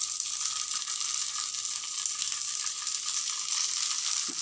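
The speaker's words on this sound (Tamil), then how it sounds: "ஒவ்வொரு கட்லெட்டாக தவாவில் போட்டு ஷாலோ ஃப்ரை பண்ண போகிறேன்." Leftover-rice cutlets shallow frying on a tawa, a steady even sizzle with fine crackle throughout, close and moderately loud, no talk.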